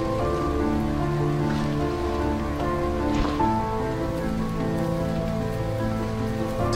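Steady, dense rain falls through a very wet forest in one of the wettest corners on the planet, a constant loud patter on leaves and surfaces with no voices.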